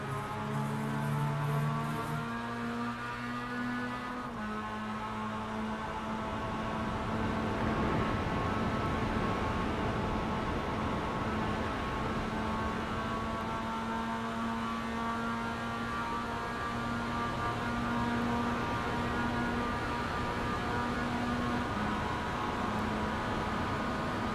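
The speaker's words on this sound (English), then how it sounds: "You can hear all the wind that's whooshing all over the car" Inside a Mazda MX-5 Cup race car in iRacing, a continuous roar of wind rush blends with a steady droning engine tone, loud and unbroken throughout, no voices.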